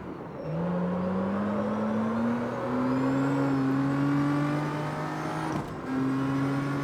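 A JDM street car in the video game CarX Street runs at full throttle in a high gear. The engine drone climbs steadily in pitch, dips briefly near the end as if shifting, then resumes.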